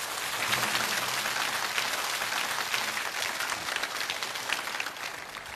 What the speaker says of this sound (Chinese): 所以再次把掌声送给我们这些了不起的海上的英雄。